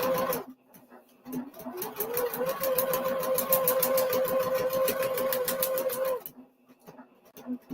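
A sewing machine stitching paper piecing runs in one rapid, even burst of needle strokes lasting several seconds, starting and stopping abruptly, with a voice speaking faintly before and after.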